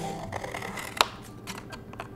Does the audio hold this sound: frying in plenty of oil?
no